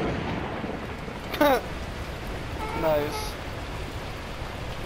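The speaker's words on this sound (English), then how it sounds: "the heavens opened up, unleashing torrential rain" Torrential rain pours down in the video game Beacon Pines, a steady dense hiss filling the whole scene, with a voice speaking briefly over it twice.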